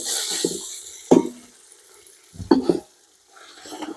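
A spoon stirs a ground tomato mixture in a hot pan for chicken biryani, giving a few soft scraping strokes with brief sizzles, close by, separated by quiet gaps.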